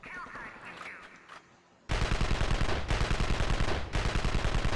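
Gunfire rattles in the video game Evil Genius: a burst of rapid automatic shots that then continues loud and sustained in dense volleys, following a quieter stretch of game sound.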